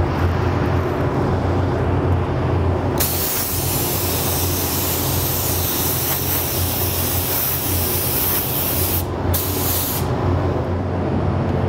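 Spray gun applying a second coat of silver sealer, a loud close steady hiss of air that jumps in strength after about three seconds, drops briefly near nine seconds, then continues.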